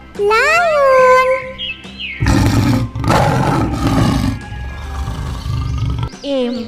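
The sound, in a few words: lion roaring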